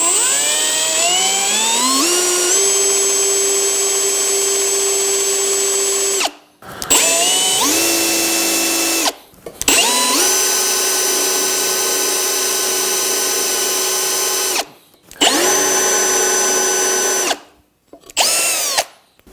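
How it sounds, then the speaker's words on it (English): A power drill runs in several long bursts, high whine climbing as it spins up, with short pauses between runs, close and loud. "begin to make a drill, you can go right down and just follow that square"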